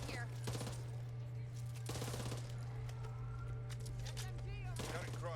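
SMG fire in the Back 4 Blood video game comes as several sharp rapid bursts, close and loud, over a steady low game hum with other clattering shots scattered between them.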